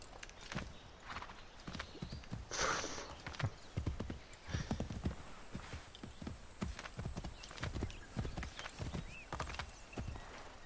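Horse hooves clip-clop steadily in the PS4 game Assassin's Creed 3, a continuous rhythmic trot with a brief whinny near the start, under faint game ambience.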